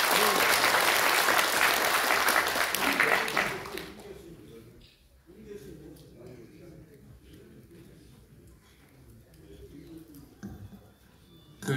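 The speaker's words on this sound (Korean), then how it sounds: "우리 다 함께 모든 분들을 축하하는 의미에서 큰 박수 부탁드립니다." Loud applause from the audience at a Korean opening ceremony with descendants of independence fighters attending. Dense clapping fills the first four seconds and then fades, giving way to quieter room sound and a voice speaking.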